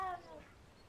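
A cat meows in the video game Hogwarts Legacy, a single short, fairly faint mew that fades quickly.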